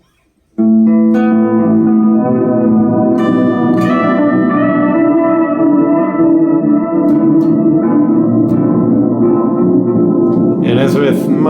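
Electric guitar played through a Walrus Audio Fable delay reverb pedal, sustained notes blooming into a wash of echoing repeats and lush reverb tails, loud and continuous after a short silent start, with a bright shimmer near the end.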